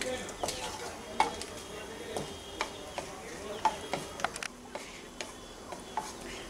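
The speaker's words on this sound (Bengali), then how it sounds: "তেলটা গরম হয়ে গেলে প্রথমেই এই শুকনো লঙ্কাগুলোকে আমি ভেজে নিচ্ছি।" Dry red chillies frying in a little refined oil in a wok, a steady crackling sizzle with scattered sharp ticks and scrapes of stirring, close and moderately loud, no talking.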